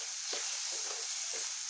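Potatoes seasoned with salt and spices cook in a pan for egg pakora kadhi, giving a steady, soft sizzle with a few faint stirring scrapes, fairly quiet and without talk.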